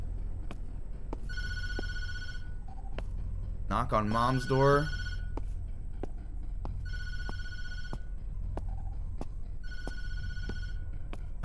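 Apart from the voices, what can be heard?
telephone ringing in Tattletail video game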